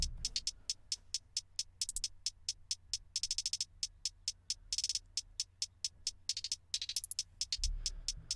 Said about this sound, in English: and this is the hi-hats.